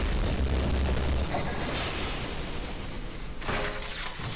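A loud, dense roaring blast of a mech exploding in a Skibidi Toilet cartoon, with rumbling debris noise that fades slightly, then a second crackling burst near the end.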